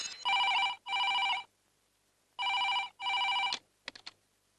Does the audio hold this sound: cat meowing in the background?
no